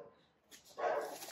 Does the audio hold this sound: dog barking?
yes